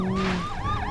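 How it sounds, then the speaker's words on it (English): A loud, close police-style siren from the video game BeamNG.drive wails and yelps continuously, its pitch sweeping up and down with a steady engine hum underneath. "time for some sirens"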